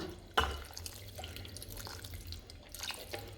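Water poured into rava idli batter that has just had curd mixed in, a soft watery trickle and splash with one sharper drip-like impact near the start, close and fairly quiet.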